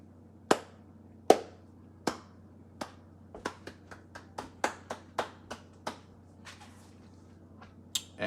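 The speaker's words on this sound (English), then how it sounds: "Clap it up." Sparse, distinct hand claps from a few people, starting as single spaced claps and quickening into an irregular cluster before thinning out, with a couple of late claps near the end.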